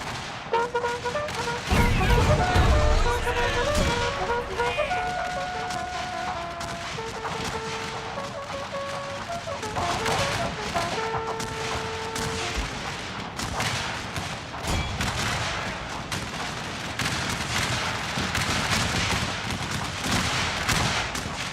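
Artillery and rifle fire in a video game battle at Ball's Bluff: repeated booms and crackling volleys roll on for the whole stretch, loud and close, under a steady musical score.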